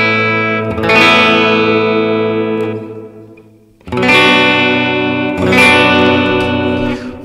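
An electric guitar played through a Valeton GP-200LT multi-effect unit with a deep sea reverb delay, sounding loud sustained chords whose washy tails linger and fade before ringing out again in two more swells.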